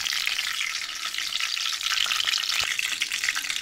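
Ground masala paste sautéing in oil for boneless chicken gravy, a bright, steady crackling sizzle with faint stirring knocks, close and even throughout.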